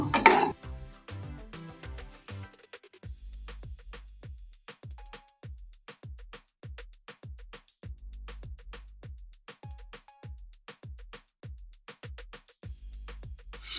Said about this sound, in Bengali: ছানার সঙ্গে মশলাটা আমি একটু ভালো করে নাড়াচাড়া করে নেব